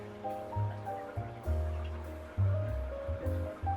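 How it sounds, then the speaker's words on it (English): Water from a hose pours steadily into an aquarium tank during a water change, a soft continuous rushing and splashing with a voice talking over it. "as the water's going into the tank"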